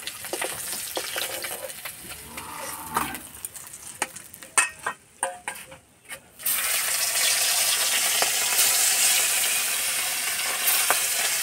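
Pieces of fish fry in hot oil until reddish, with bursts of stirring and clinks at first, then a loud, steady sizzle that takes over and holds to the end.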